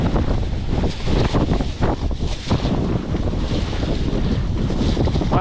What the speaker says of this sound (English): It's so windy, it's blowing the bags inside out.